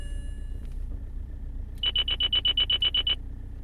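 A quick series of about ten bright, evenly spaced electronic beeps from a BMW E91 sounds over a low engine hum just after starting, then stops.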